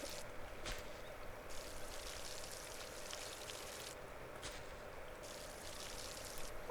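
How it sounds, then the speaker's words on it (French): Watering plants in the video game Solarpunk gives a faint, continuous trickle and splash of water, with a few short pauses in the flow. "J'imagine que on doit pouvoir remplir et arroser."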